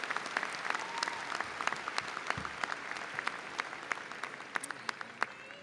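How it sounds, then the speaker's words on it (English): Sustained applause from a university commencement audience at UNT, a dense wash of many hands clapping at steady strength with sharper individual claps popping out, with no one speaking over it. "Please join me in giving them a round of applause."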